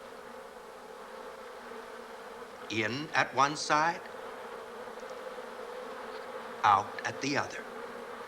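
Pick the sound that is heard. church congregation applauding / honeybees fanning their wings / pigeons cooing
honeybees fanning their wings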